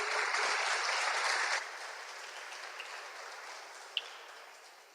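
Church congregation applauding during a Portuguese-language sermon, a dense burst of clapping that cuts off after about a second and a half, leaving a faint fading patter and a lone sharp clap near the end.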